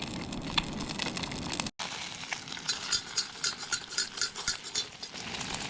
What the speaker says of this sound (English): There are 5 pieces of trout in there, cooking away.